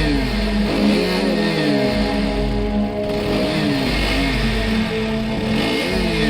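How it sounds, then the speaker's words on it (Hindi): A scooter ridden by a cartoon character putters steadily with a mid-pitched motor hum that rises and falls in pitch, revving close by under a backing music bed. "जैसे ही पॉटी बॉय शॉन स्कूटर लेकर रॉड के पास आता है"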